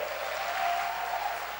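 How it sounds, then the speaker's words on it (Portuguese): Audience at a youth church service celebration applauds steadily, a dense wash of clapping that holds at an even level throughout without speech over it. "Dá um aplauso para essa galera aqui."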